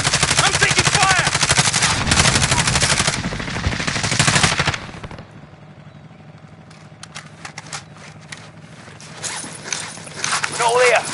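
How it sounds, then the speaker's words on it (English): Rapid automatic gunfire in a video game firefight, loud dense bursts for several seconds, then a quieter stretch of scattered shots and clicks, with shouting voices in the mix. "I'm taking fire!"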